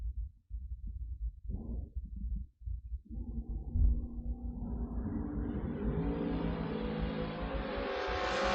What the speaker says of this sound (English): you hear him ripping the throttle on the way down